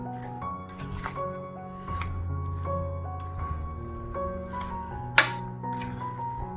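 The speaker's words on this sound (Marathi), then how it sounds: "ते आता आपण कालवून घेऊया" Tempering being stirred into a homemade lemon and chili pickle, soft wet squishing and clicking of spoon against container in irregular bursts, with one sharper knock near the end, close and fairly quiet.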